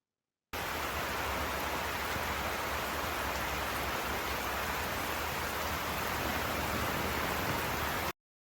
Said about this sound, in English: here you can see how the rain will fall in between the crop rows